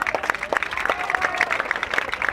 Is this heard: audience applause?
yes